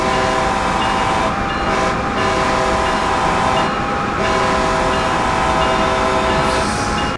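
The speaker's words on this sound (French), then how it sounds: "Je suis un malade du klaxon moi." A long, loud train horn in a train simulator video game blares steadily with brief breaks, over the constant rumble of a fast-moving high-speed train.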